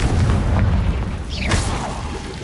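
A Confringo fire spell explosion in the video game Hogwarts Legacy, a loud booming blast with heavy low rumble, followed by a bright crackling burst that fades away.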